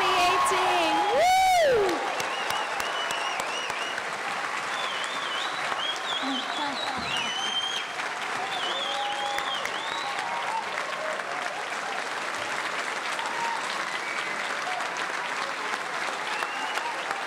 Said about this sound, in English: Can we have just one more round of applause for the Abbey Park graduating class of